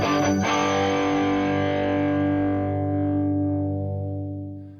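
A single electric guitar chord rings out through a blonde Fender Tonemaster Deluxe Reverb combo amp, warm with light distortion and reverb, sustaining for several seconds and slowly fading.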